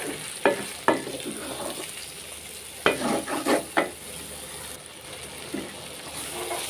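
Eggplant pickle being stirred and mixed in a pan, a few separate scraping strokes of a spoon against the metal over a low hiss, close and moderate in loudness, with quiet gaps between strokes.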